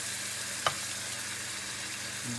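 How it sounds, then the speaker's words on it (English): Steady, close sizzling and bubbling of fish frying in a pan of green curry paste, a continuous hiss with one brief clink partway through. "They are cooking, as you can see, bubbling, sizzling."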